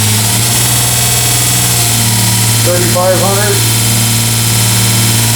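A 1x30 belt grinder fitted with a Combat Abrasives belt runs loud and steady at high RPM, a constant motor whine and hum with someone speaking briefly over it.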